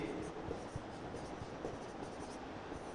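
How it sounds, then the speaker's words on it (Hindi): Chalk or marker scratching on a board during a classroom science lesson, soft irregular strokes and taps under steady background hiss, faint and with no talking. "देखो मैं यहां लिख देता हूं पहले, फिर इसको समझाऊंगा"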